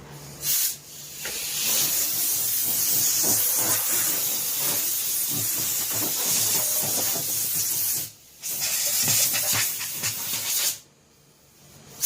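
Compressed air blows dust off a Peavey 115DL speaker in long, loud, close hissing bursts, with brief pauses between blasts.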